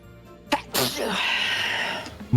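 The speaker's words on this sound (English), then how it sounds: "Any day that my nose decides that it will stop sneezing, it would be great." One sharp, close sneeze bursts out after a quick intake of breath, followed by a long, fading breathy exhale.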